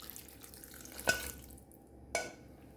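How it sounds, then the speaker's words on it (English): Water poured into a pot while cooking fenugreek and peas rice (methi matar chawal), a soft, quiet trickle with two brief splashes. "add in about 2 cups of water"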